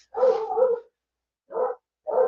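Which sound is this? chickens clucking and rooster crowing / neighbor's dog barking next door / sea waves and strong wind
neighbor's dog barking next door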